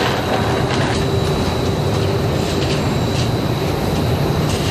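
A giant industrial washing machine tumbling a batch of denim jeans with stones during a rinse cycle: a loud, continuous churning rumble with dense rattling and knocking, steady and close throughout.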